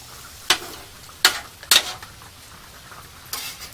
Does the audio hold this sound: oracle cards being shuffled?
no